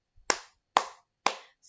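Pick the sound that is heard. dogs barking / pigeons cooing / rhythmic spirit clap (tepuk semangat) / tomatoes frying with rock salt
rhythmic spirit clap (tepuk semangat)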